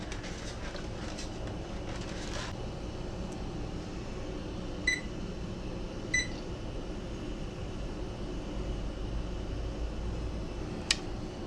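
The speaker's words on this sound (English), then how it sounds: "Set a little timer there to remind me to come back and check this, see if it's boiling yet." A kitchen timer being set beeps in short, faint electronic pips a few times over a steady low hum of kitchen background noise while potatoes are brought to a boil for Southern potato salad.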